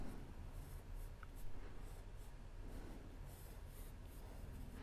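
A pencil scratches steadily across paper while sketching a character, giving soft, continuous rubbing strokes that sit faintly beneath a low background hum.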